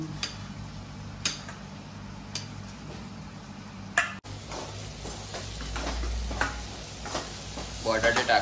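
Potatoes sizzling in hot oil in a home kitchen pan for kanda poha, a steady close fry with the ticking of stirring and occasional knocks of a utensil, growing livelier toward the end.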